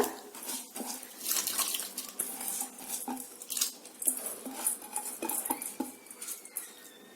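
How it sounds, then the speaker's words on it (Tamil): Drained, soaked basmati rice tips into a pot of boiling water, giving a soft rushing, clattering pour with light metallic knocks of pot and utensil, fairly quiet and close, with no talking. "இப்போ நம்ம ஊற வச்சிருக்கிற பாஸ்மதி அரிசியை தண்ணியெல்லாம் வடிச்சிட்டு உள்ள சேர்த்துடலாம்."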